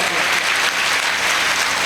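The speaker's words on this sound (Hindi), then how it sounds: "हालेलुया, ताली बजाइए" A church congregation applauds, dense steady clapping filling the room throughout.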